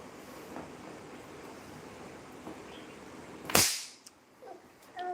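A single sharp, loud bang bursts out over steady outdoor background noise, followed by a brief crackling tail and quieter surroundings.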